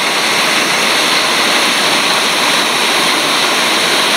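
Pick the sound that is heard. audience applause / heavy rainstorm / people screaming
heavy rainstorm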